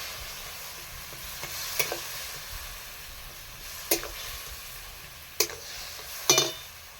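Spice masala fries with a soft, steady sizzle in a pan, broken by four sharp scraping clicks as a spoon stirs it at irregular intervals. No one speaks.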